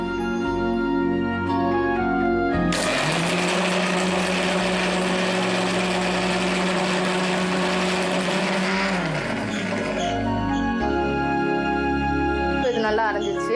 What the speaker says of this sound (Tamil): கொஞ்சம் தண்ணி விட்டு நல்லா அரைச்சுப்போம்